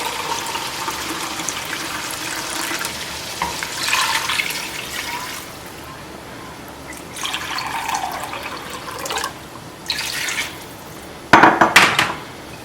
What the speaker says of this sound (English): Then I'm going to add about 3 to 4 cups of water.